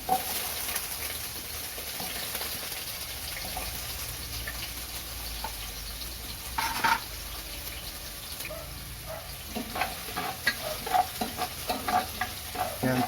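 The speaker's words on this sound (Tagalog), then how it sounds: "Pan-fry lang natin. Itong mga gulay. Itong carrots muna." Carrots and other vegetables being pan-fried for pork caldereta produce a steady, close sizzle with frequent stirring and scraping, and a few louder spatters near the end.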